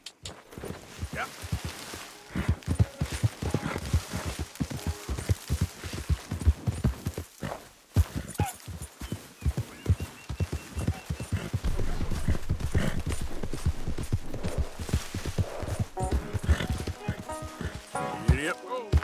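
A horse gallops in Red Dead Redemption 2, rapid rhythmic hoofbeats on dirt running through most of the stretch, with a brief pause partway, sometimes under a rider's spoken urging.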